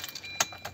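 Car keys for a Tata Punch jangle briefly as the key is pulled out, a quiet, close metallic rattle with one sharper clink in the middle.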